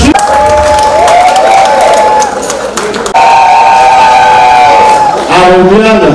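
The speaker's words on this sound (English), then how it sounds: "je voudrais que l'on nous donne une salve d'applaudissements à Béatrice." Applause and cheering at a 60th birthday celebration in Washington, a loud sustained crowd roar with clapping and whoops, broken by a brief dip partway through and continuing strongly to the end.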